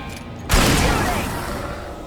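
A burst of gunfire from the Alan Wake video game erupts suddenly after a quieter stretch, a loud broadband blast that decays into a lingering rumble, with voices mixed in.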